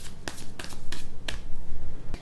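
A tarot card deck being shuffled, crisp riffling bursts of cards snapping together several times in quick succession, close and fairly loud with no voices.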